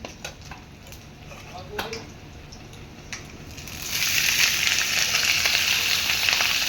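Softer kitchen clatter and a brief voice give way to a sudden, loud, sustained sizzle as potatoes hit hot oil in a pan and fry steadily up close.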